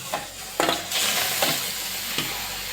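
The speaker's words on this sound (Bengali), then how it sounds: "গ্যাস জ্বালিয়ে কড়া বসিয়ে দিয়েছি, আর কড়াতে আমি আমের পালগুলো দিয়ে দেবো" Mango pulp goes into a hot pan over a gas stove, giving bursts of sizzling and frying with a few stirring scrapes, close and fairly loud, with no talking.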